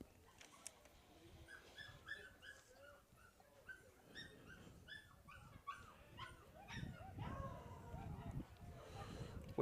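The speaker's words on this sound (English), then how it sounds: "we have a battle of the mutts downstairs" Dogs barking, yipping and whimpering in a scuffle downstairs at a college baseball game between Tabor and Dakota State, excited bursts of barks that grow busier toward the end, heard faintly from a distance.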